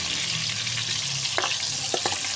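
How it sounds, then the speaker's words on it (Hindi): Tomatoes frying in a pan for a potato and egg curry, a steady sizzle with a few brief stirring clatters, close and alone without talk. "बस टमाटर को मैंने अच्छे तरीके से फ्राई कर लिया।"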